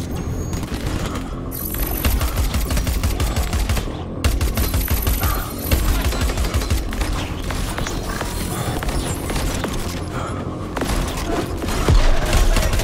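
Gunfire in the video game Crackdown 3 comes as loud, continuous automatic bursts with booming impacts and mechanical clatter, breaking off briefly between volleys.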